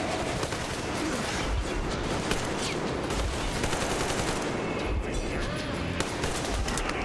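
Enemy gunfire in the Metro Exodus video game, a dense run of rapid shots and bursts that continues for the whole stretch at a steady, fairly loud level.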